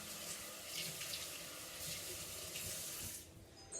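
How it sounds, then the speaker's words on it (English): Water runs from a sink tap as a measuring cup is rinsed in a kitchen, a steady hissing splash that stays even for a few seconds, then softens as the flow is shut off. "I'm going to actually go ahead and put this in my sink and rinse out my measuring cup"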